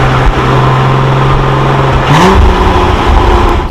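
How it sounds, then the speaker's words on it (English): Porsche Cayman R flat-six revving hard through its exhaust, a loud continuous engine roar close by with a quick rev swell and pitch rise midway. "We know the exhaust sounds like just absolute magic."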